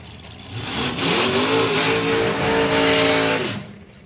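A drag race car engine roars as it accelerates at a drag racing event, its pitch rising and holding steady, loud and close, then cutting off abruptly near the end.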